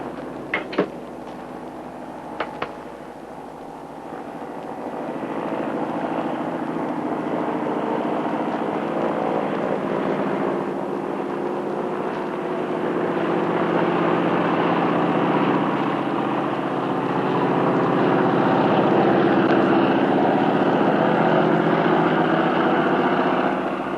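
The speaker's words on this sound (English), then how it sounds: "Navy airship cleared for unmast and takeoff." A Navy airship unmasting and taking off: a steady engine drone builds and holds for over twenty seconds, with a few sharp clanks at the start, loud and close throughout.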